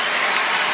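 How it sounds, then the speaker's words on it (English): A brief burst of crowd applause rises from a funeral audience, heard as dense clapping from a played recording. "the sick, twisted people there at the funeral applaud this garbage"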